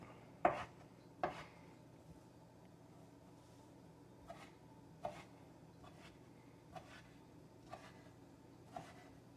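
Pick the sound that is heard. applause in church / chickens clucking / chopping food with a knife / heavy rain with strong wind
chopping food with a knife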